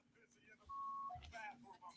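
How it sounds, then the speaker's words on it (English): A single steady censor bleep, about half a second long, cuts into a livestream of people talking. Faint voices and background chatter sit around it. "they beeped that one out"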